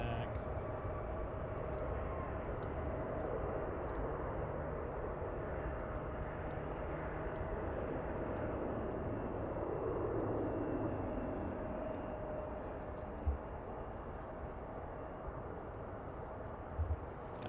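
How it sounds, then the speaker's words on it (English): Two Embraer 175 jet airliners land back to back on a far runway during evening arrivals, a continuous distant engine roar and rush that holds for the whole stretch with no speech. "There's our two 175s back to back."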